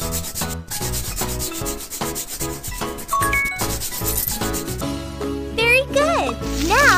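Wooden boards being brushed in a girls' cleanup video game, a soft scraping rub set against steady bright game music with chimes and jingles, and a few cartoonish rising tones near the end.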